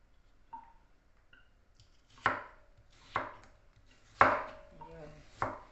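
Knife chopping through chayote on a cutting board into long slices, five sharp, separate strikes spaced about a second apart, close and clear with no talking.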